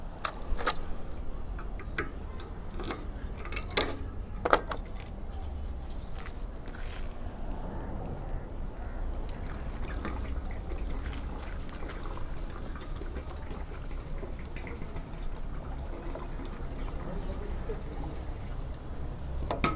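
Petrol pours steadily from a one-litre bottle into the tank of a new Honda Shine 125 motorcycle, a continuous close gurgling wash with a few clinking taps near the start.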